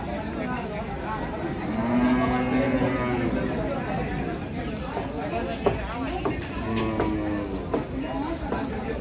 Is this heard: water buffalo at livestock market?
yes